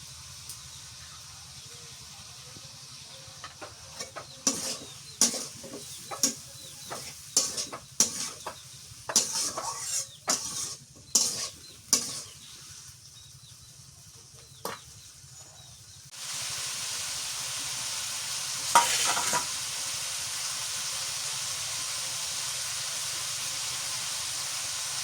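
Spices and garlic paste for a tilapia fish curry are stirred in a pan, a series of sharp scraping clinks with soft sizzling beneath, followed by a steady loud hiss of frying once the paste goes in.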